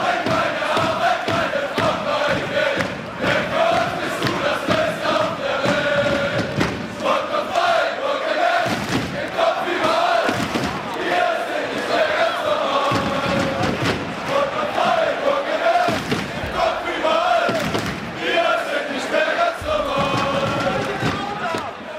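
Crowd roars and cheers continuously in the Blood Bowl fantasy football video game, loud and dense throughout with surging chants and scattered impacts.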